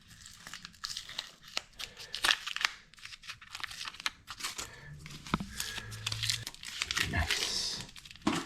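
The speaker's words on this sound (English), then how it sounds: "Let's go ahead and take all the tape off." Tape is peeled off Ford 8.8 axle parts in a run of close, irregular crinkling and tearing rips with short pauses, quiet but distinct in a workshop.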